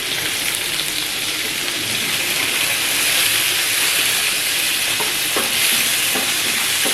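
Chopped tomatoes are added to onions and green chillies frying in oil in a pan, producing a loud, continuous sizzle with soft scraping stir sounds and a few clicks toward the end.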